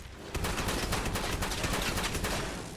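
A quad double barrel shotgun blasts away in Fallout 76, a loud, close barrage of rapid, heavy shots packed tightly together over a booming, continuous roar.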